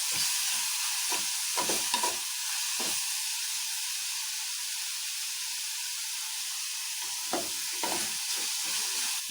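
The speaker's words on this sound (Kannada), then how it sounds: "ಹಂಗಾಗಿ ಜಲ್ದಿ ಫ್ರೈ ಆಗುತ್ತೆ ಈರುಳ್ಳಿ." Onions fried with salt in hot oil for a tempering, a steady close hiss and sizzle with a few scraping stirs of a spoon in the pan, no voices.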